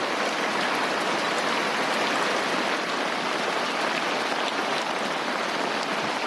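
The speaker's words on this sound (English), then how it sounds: "finally the rain's come" Steady rain falls on a sailboat at anchor, a dense, even hiss of drops pattering on the deck and surrounding water, constant and fairly close with no voices.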